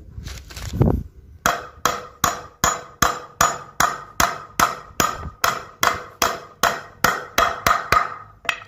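Rapid, steady hammer blows strike a nail into very hard ironwood (ulin), close and loud, around eighteen hits in a quick even rhythm.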